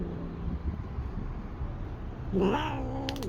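An angry cat growls low and steady, then breaks into a short, rising yowl near the end, close and fairly quiet, with no talking.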